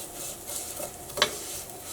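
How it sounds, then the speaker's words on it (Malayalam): Steady low sizzle of vermicelli frying in a pan, with soft scraping strokes and one sharper clink of a utensil against the pan. "ഇത് നല്ലൊരു ഗോൾഡൻ കളർ ആവണ വരെ ഇത് നമ്മളിങ്ങനെ ഇളക്കി കൊടുത്തോണ്ടിരിക്കണം"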